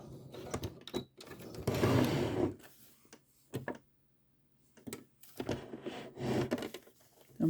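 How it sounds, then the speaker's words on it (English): A sewing machine stitching across a zipper on a small boxy bag, running in short slow bursts with pauses between, close and fairly quiet. "I'm just going to sew across this, keeping the teeth together"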